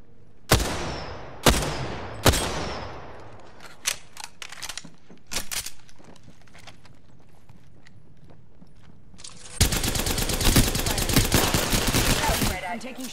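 Gunfire in a video game hot drop: three loud, separate shots to start, then scattered quieter reports and a sustained burst of rapid automatic fire toward the end, close and dominant.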